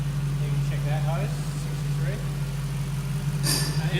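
A Ford Boss 5.4L V8 fitted in an AU Falcon XR6 idles with a steady, deep, smooth hum, running on a short exhaust, while people talk faintly in the background.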